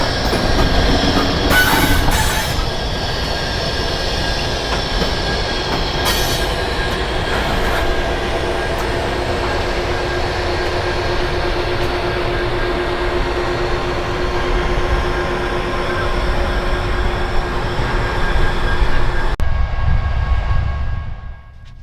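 A pair of SD70M diesel locomotives rumble steadily nearby with a droning engine and metallic clanks and squeals, loud throughout before cutting off abruptly at the end.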